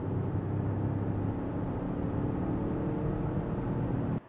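Peugeot 3008 GT 1.2 Hybrid accelerating from 80 to 120 km/h, a steady low engine drone and road rumble heard from inside the cabin, continuous and moderately loud, cutting off abruptly near the end.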